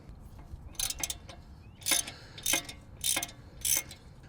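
A ratchet fitted with a 12-point 13 mm socket loosens a bolt on an off-road vehicle, making five or so short, close bursts of crisp clicking separated by brief pauses.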